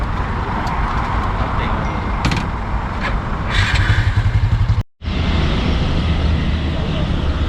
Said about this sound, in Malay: Banyak motor ni.